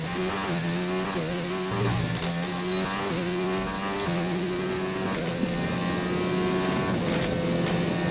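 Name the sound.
race car engine in an F1 video game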